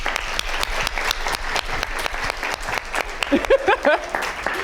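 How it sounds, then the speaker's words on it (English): An audience at a women-in-business panel masterclass claps warmly for a panelist, dense and steady, with a voice speaking briefly near the end. "So if we could please give a round of applause to Lynn as well."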